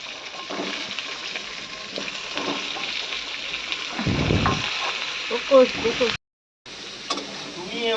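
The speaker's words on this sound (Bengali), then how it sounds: "আর এবার এই লাউগুলোকে দিয়ে দেবে, দিয়ে এর মধ্যে ভেজে নেবে।" Bottle gourd pieces frying in oil with five-spice seeds, a steady close sizzle running throughout with occasional stirring clatter, a brief gap near the end, and a voice talking over it.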